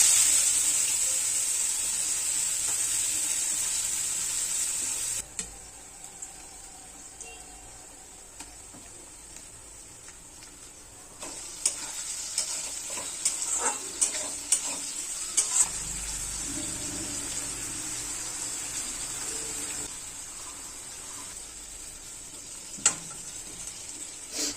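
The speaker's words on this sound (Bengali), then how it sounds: "এরপর পেঁয়াজ, আদা, রসুন দিয়ে তারপর চিংড়ি মাছ দিয়ে ভালো করে কষে নিয়েছি।" Prawns sautéed with onion, ginger and garlic in a pan, a soft continuous sizzle broken by scattered clinks and stirring knocks, fairly quiet throughout.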